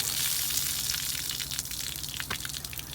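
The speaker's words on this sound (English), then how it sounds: "And now the draining process is beginning." Water gushing and splashing out of opened low point drains beneath a NuCamp TaB 400 camper trailer during winterizing, a steady close hiss of draining flow.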